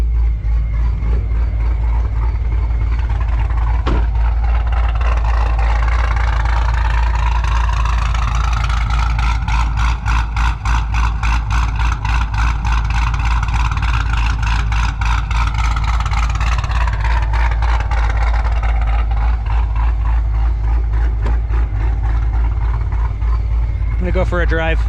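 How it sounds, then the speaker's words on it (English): A car engine idles steadily and a little low, with no surges, holding an even low rumble close by throughout without pauses. "We have a nice steady idle."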